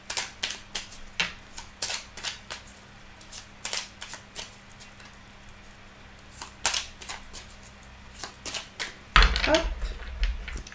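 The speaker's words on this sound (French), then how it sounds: "Alors, je vais remélanger un petit peu." Tarot cards being reshuffled make repeated crisp riffling bursts in an irregular rhythm, up close, ending with a louder rustle and thump; a quiet low hum runs beneath.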